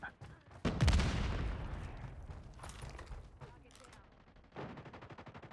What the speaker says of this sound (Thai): ดูมันยิงยิงรัวๆเลย